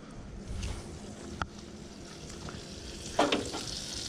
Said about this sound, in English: Put the garlic in there so I get some garlic butter.